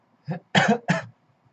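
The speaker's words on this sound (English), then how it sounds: "that cough is coming back" Three short dry coughs come close together from a woman during a live stream, fairly loud and close, with quiet in between.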